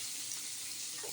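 Small hilsa fish frying in oil in a pan, giving a steady, close, broadband sizzle that holds throughout with no talk.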